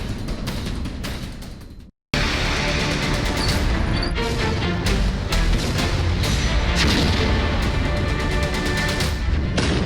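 A Russian T-72B tank destroyed in the Russia-Ukraine war: a loud, continuous blast and roaring rumble with crackling debris, briefly cut to silence, then resuming at full intensity.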